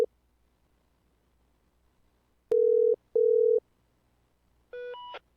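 A phone calling tone in the video game GTA V FiveM: two long, loud electronic beeps in a row after near silence, then a shorter, softer chiming tone, no talk.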